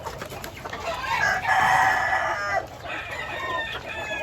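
A rooster crows loudly up close amid steady chicken clucking, with a second crow following toward the end.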